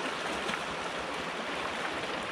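Snowmelt water rushes steadily down a stream on a mountain bike trail, a dense, continuous close-up wash of flowing water with no voices.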